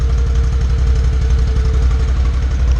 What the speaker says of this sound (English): This is what it sounds like with the stock exhaust.